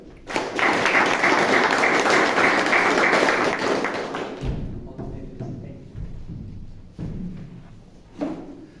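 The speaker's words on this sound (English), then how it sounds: "please help me welcome with a round of applause our Toastmasters Surender on this stage" An audience breaks into a round of applause welcoming a Toastmasters table topic master to the stage, dense steady clapping for about four seconds that then fades into scattered claps and room noise.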